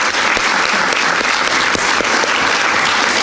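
A crowd claps steadily at a therapeutic massage graduation ceremony, a full, even round of applause with a few sharper individual claps standing out.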